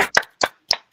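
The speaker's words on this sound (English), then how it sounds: "Round of applause" Three separate hand claps at a podcast wrap-up, close and sharp with short silences between them, like a small group or a single person clapping briefly.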